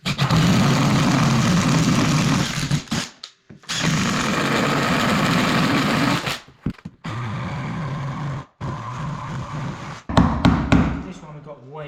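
Jigsaw cutting out a section of floor around a soil pipe, loud buzzing bursts of several seconds separated by short pauses and brief rattles.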